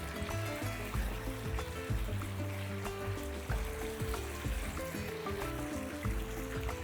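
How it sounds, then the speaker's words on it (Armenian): Beef and vegetables being turned over in a hot frying pan, with a continuous wet sizzle and irregular clinks and scrapes of the utensil against the pan, close and fairly quiet. "Կրկին զգուշորեն տակն ու վրա ենք անում։"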